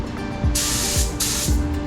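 Two sustained hissing bursts from a spray gun applying sealer to the fender of a 1969 Dodge Charger, each lasting about half a second, separated by a brief pause, with a low mechanical hum underneath.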